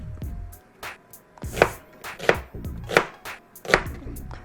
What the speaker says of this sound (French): Faut quand même pas hacher trop fin